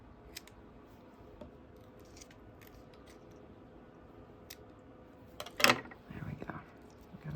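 Scissors snip through crossword puzzle paper while trimming a handmade gift tag, a short close burst of crisp cuts late on after a quiet stretch of small handling noises.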